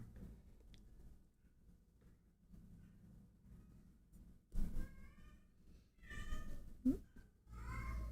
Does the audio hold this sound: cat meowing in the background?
yes